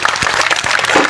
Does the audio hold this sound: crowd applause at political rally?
yes